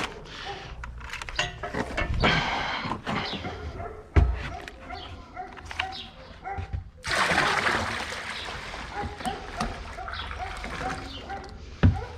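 Liquid vineyard pesticide splashes and gurgles as it is poured into a Holsan Can20 sprayer tank hitched to a Same Frutteto tractor, with uneven bursts of pouring, trickling and clattering of containers, and faint voices at times.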